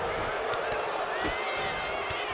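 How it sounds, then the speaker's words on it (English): An upset spectator at a wrestling match shouts loudly after a one count, rising out of a dense, steady roar of crowd noise with scattered sharp bursts. "If you hear someone in the crowd is very upset about that."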